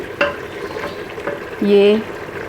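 Mutton for aloo gosht in an open pressure cooker over a lit flame, giving a soft steady sizzle with scraping stirs and a brief louder rise near the end.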